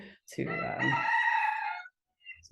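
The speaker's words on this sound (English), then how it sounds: "my rooster's a little distracting" A rooster crows once, nearby and loud, a long drawn-out harmonic call that stops abruptly, followed by a brief quiet and a faint soft cluck.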